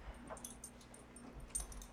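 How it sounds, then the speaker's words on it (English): A small dog whimpers indoors, soft high yips and whines breaking through a low steady hum, fairly faint throughout with one sharper cry near the end. "Come here, little doggy."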